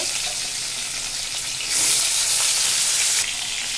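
Tilapia fish frying in hot oil, a loud close hiss and crackle that swells sharply for a moment midway before easing back to a steady sizzle.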